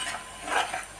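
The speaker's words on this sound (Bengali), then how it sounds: "মশলাটা ভাজছি।" Spice mix of turmeric and chili powder frying in oil in a pan, stirred with a utensil, with a soft steady sizzle, scraping stir strokes, and a brief sharper clink at the end.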